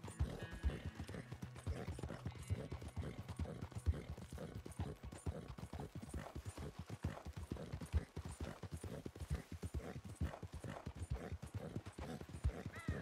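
Horse hooves clip-clop steadily on a rough road in Red Dead Redemption 2, a quick even rhythm of close, fairly quiet hoofbeats with a faint whinny early on and no talking.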